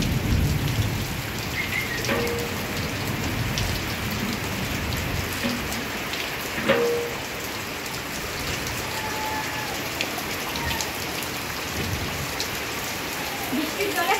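Heavy rain hisses steadily on surfaces, with a few soft rumbles of thunder rolling in the background and faint voices now and then beneath the downpour.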